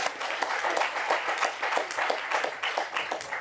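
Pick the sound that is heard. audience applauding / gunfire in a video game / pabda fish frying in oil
audience applauding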